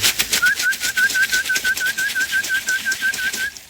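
Racing pigeons cooing nearby, a loud steady run of rhythmic coos with a clear repeated whistling tone throughout, no voices.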